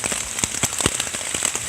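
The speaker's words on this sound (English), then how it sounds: "Started drizzle on us a little bit." Light drizzle pattering on a camping tarp in a forest, a steady dense patter of close, distinct drop taps with no talking.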